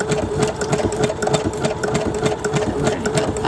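A sewing machine stitching in a steady run, its rapid, even rhythmic whir and clatter close and loud throughout with no pauses.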